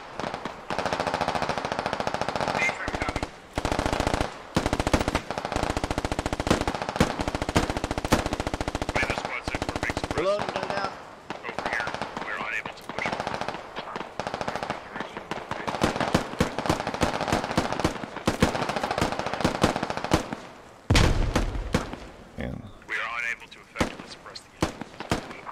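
Dense bursts of automatic rifle fire and single shots crackle through a SquadOps Arma battle, loud and near, in rapid irregular volleys with brief pauses.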